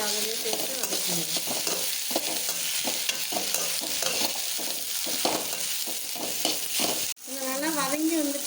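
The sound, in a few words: sautéing ridge gourd in a pan for chutney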